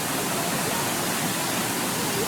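Waterfall at a water park, a steady broadband roar of falling water filling the whole clip with no breaks.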